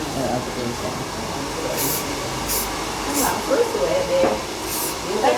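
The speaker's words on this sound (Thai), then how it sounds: "ผมฉีดสเปรย์ให้สองรอบนะ" Hair spray hisses onto a client's hair during a semi-long slicked-back haircut in a salon, several short bursts spaced about a second apart over steady background noise and a voice talking.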